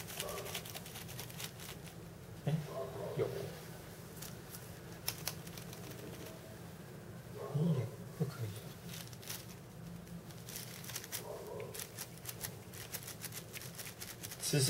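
Keys pressed on a USB keyboard connected to an iPad, a close run of irregular plastic key clicks and taps with a few brief louder clusters, and no talk over them.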